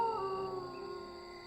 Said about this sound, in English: they woke up with a strange animal howl